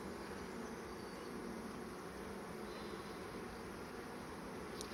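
Bees in an opened hive during an inspection, giving a steady, dense buzzing drone that holds evenly throughout at a low, close level.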